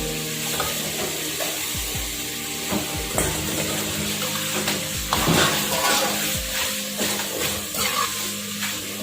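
Ingredients for dinuguan sautéing in a hot pan, a steady loud sizzle broken by scraping and clinking as a spoon stirs through the pan, with no talk over it.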